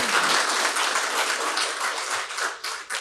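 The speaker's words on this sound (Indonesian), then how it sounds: "Tepuk tangan untuk para dosen dan guru besar Fakultas Hukum Universitas Hang Tuah." Sustained applause from an audience at a law faculty graduation ceremony at Hang Tuah University, dense steady clapping that fills the room throughout, tapering slightly near the end.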